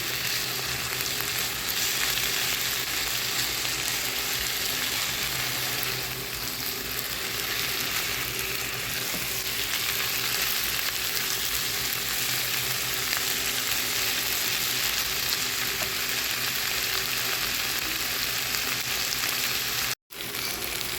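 Red amaranth greens fry with onion in a pan, a long unbroken hiss of sizzling oil with faint stirring, cut by a brief silence near the end.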